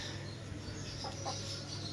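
Desi hens cluck softly in short bursts over a steady farmyard background hum, close by, with no one speaking.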